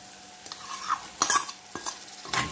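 Onions, chicken liver and gizzards are stirred in a pan with a utensil, giving a few separate clinks and scrapes against the metal amid a faint sizzle, close up and without talk.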